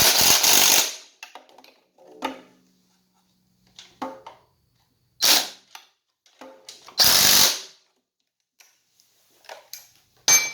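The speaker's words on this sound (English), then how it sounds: "So we're going to tighten these up." An impact-type power tool tightens the bolts on a pressure washer pump in three loud close bursts, each about a second long, with quiet clicks and handling noises in between.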